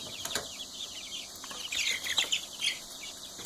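Several Speckled Sussex chickens cluck softly nearby in short bursts, with a brief flutter of wings among them.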